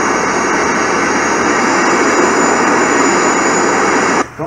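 In Flight Simulator X, an airliner taxis with its jet engines running, a loud, steady whine and roar held evenly before cutting off abruptly at the end.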